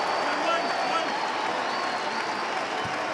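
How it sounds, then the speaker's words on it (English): A crowd at a Kansas State vs. Baylor men's college basketball game applauds steadily with sustained clapping throughout, a dense wash of hands in a large arena with a faint hum beneath. "He gets a round of applause, well deserved"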